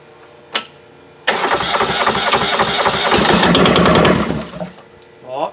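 A Kubota Z482 diesel engine cranks in a rapid, loud chugging run for about three seconds after a brief click, then the starter winds down, with a voice at the end.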